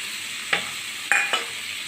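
Chicken sandwich filling with chopped green chilies is mixed in a pan, a low steady sizzle with three short scraping strokes of the spoon.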